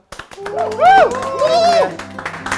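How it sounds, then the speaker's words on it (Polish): An audience claps at a live event after a call for applause for the speaker's partner. Scattered, sharp claps run throughout under loud voices and cheering. "Poproszę o brawa."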